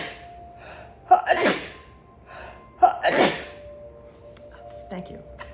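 Two distinct human sneezes, each with a quick inhaled gasp before a loud burst, spaced about two seconds apart, with faint voice sounds between them.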